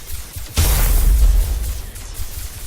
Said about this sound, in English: Detonate Mine 12. Detonate Mine 15.